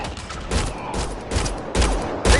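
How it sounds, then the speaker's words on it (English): Gunfire from the video game Mass Effect Andromeda: repeated loud bursts of shots in an uneven rhythm, with heavier blasts near the end. "They shot him!"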